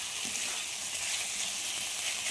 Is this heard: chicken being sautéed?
yes